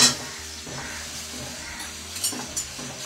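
Cinnamon, green and black cardamom dropped into hot oil with fried onion and chili for khichuri, giving a soft steady hiss and sizzle with small crackles, close and fairly quiet.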